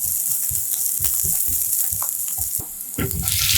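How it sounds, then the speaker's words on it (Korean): Sliced onions sauté in a spoonful of olive oil in a pan, a bright constant high sizzle with intermittent spatula stirs and knocks, close by and with no voices. "같은 팬에 올리브유 한 스푼 두르고 채 썬 양파를 넣고 살짝 색깔나게 볶아 풍미를 올려주고"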